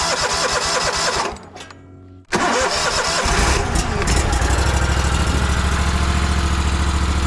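A stump grinder's engine cranks and turns over, stalls briefly into near silence, then fires and catches, settling into a loud, steady close-up idle as it warms up.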